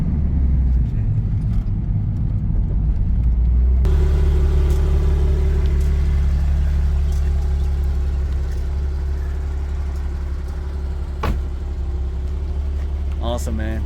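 A sports car of around 300 horsepower with a stiff racing-type single clutch gives a loud, steady low engine rumble from inside the cabin while driving, with the tone shifting partway through and voices talking faintly beneath it.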